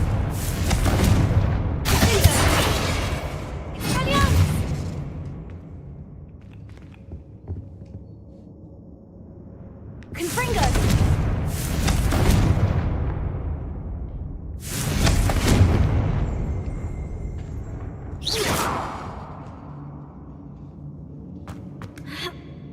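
Confringo blasting spells in Hogwarts Legacy are cast repeatedly, each a sharp whooshing burst with a booming blast, several loud impacts spaced apart by quieter stretches.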